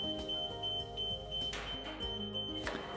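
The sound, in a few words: lift stabilizer warning alarm going off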